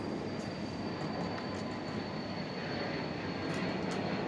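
Jet aircraft pass overhead outdoors, making a steady, broad rumbling roar with a faint high whine, distant and continuous throughout.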